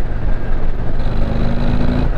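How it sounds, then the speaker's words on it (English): Harley-Davidson motorcycle engine, a Street Glide ST or Low Rider ST, rumbling steadily and close while riding, a loud continuous low throb with no talk over it. "Oh, I love the motor on these."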